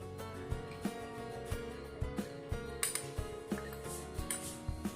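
A spoon clinks repeatedly against a bowl while spices are mixed in for a raw mango pickle, a series of light, quick metallic taps in an irregular rhythm, close and fairly quiet.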